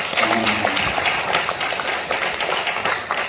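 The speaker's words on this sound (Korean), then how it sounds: "한번 축복의 박수 하겠습니다" A church congregation at a Sunday worship service claps in blessing, a lively burst of many hands close by, with a few voices briefly mixed in.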